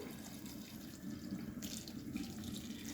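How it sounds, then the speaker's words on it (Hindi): Milk is poured into a cooking pot while preparing a Rathyatra bhog dish, a steady liquid splashing and pouring sound that continues for the full clip at close range, with no voices. "मलाई को साइड करके मैं दूध को इसमें डाल दूंगी"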